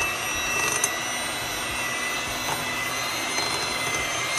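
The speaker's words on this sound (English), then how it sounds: "So I'm going to go in with my hand mixer and cream the butter." Electric hand mixer on low creaming butter for a Christmas cake, a steady whirring drone held throughout at moderate level with faint clicks of beaters against the bowl.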